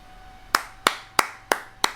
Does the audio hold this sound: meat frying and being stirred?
no